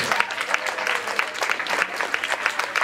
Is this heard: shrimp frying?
no